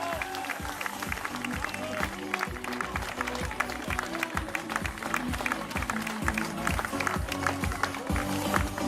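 A crowd at a marathon finish claps steadily in a dense, continuous patter, with a voice speaking over it and music in the background.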